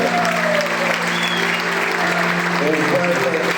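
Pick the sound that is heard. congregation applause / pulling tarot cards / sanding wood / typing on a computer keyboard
congregation applause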